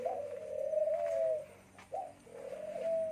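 Spotted doves in an indoor cage give repeated soft, mellow coos, two longer phrases separated by a short gap, close and clear against quiet room noise.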